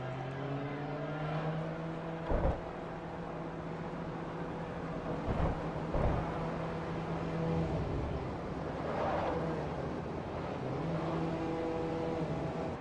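A hybrid race car engine in Forza Motorsport 4 drones steadily at high revs with sustained tonal whine and a few brief bumps, continuous and prominent.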